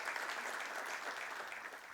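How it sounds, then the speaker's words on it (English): Applause from the audience at an SME manufacturers and exporters summit in a Mumbai conference hall, a brief, even crowd clapping that stays steady and moderately distant for about two seconds. "Ladies and gentlemen, please give a huge round of applause for the keynote speakers."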